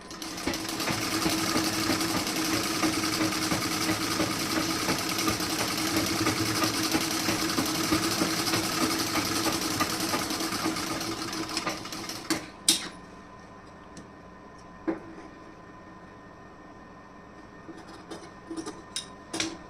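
Close, steady whirr of a sewing machine stitching a blouse runs for about twelve seconds, then stops, followed by scattered clicks and handling taps of fabric and parts.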